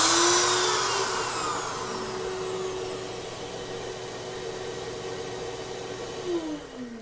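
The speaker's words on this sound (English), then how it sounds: "So there's my shop vac." A shop vacuum runs steadily alongside a CNC router spindle, a loud continuous whine with a bright high-pitched tone that starts strong, settles to a constant drone and shifts pitch briefly near the end, with no talking.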